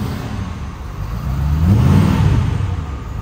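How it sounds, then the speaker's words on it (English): A 2022 Ford Super Duty with the 6.7 engine and a Banks 5-inch exhaust idles with a low rumble, then swells into one deep, loud rev that fades back down, with no talking. "Give it a couple of revs."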